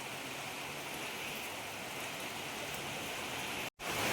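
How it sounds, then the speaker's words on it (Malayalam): Rain falls heavily and steadily in Idukki, Kerala, a dense even hiss of drops on surfaces, with a brief cut near the end. "ഇടുക്കിയിൽ മഴ പെയ്യുന്ന കാണണം"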